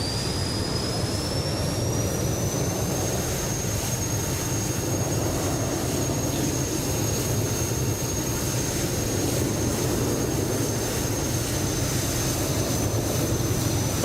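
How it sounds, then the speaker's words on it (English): A small private jet takes off in Microsoft Flight Simulator 2020 at Luton airport. Its turbines give a loud, steady roar under a high whine that climbs early on and then holds for the whole stretch, with no voices. "Oh, it's a little private jet."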